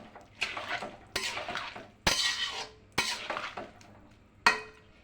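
A spatula scrapes and clanks against a pan as sajina drumsticks, tipped in after mustard seeds, are stirred, five loud metallic strokes in an uneven rhythm with a faint sizzle underneath and no talking.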